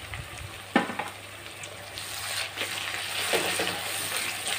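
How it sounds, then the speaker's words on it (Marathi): Tomatoes frying in oil in a pan of soybean bhurji give a steady close sizzle, with a sharp stir knock near the start and softer stirring scrapes later. "चला तर आता आपले टोमॅटो पण छान तेलात परतवले गेले आहेत"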